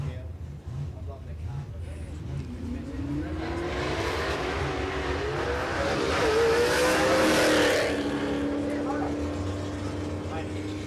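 A manual drag race car launches off the start line at a dragway, its tyres spinning as the engine roars and climbs in pitch, loud and sustained, with a commentator talking over it.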